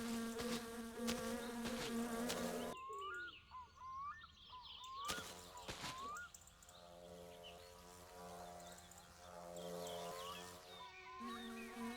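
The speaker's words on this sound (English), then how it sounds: "That's a wasp, isn't it?" Wasp buzzing in the video game My Summer Car, a close droning whine that rises and bends in pitch, with pauses and a steady game background hum underneath.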